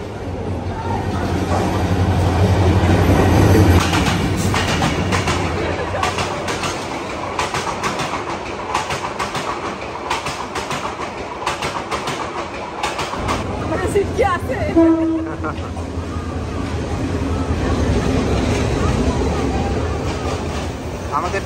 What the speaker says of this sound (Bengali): আমাদের ট্রেন চলে এসেছে, পারাবাত এক্সপ্রেস।